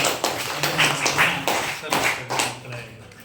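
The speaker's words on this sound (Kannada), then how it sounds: "ಸೊ ಈ ತಂಡದವರಿಗೆ ನೀವು ಚಪ್ಪಾಳೆಯನ್ನು ತಟ್ಟೋದ್ರ ಮೂಲಕ" An audience claps for a quiz team at a quiz event, the applause steady and moderately loud, with a voice speaking over it.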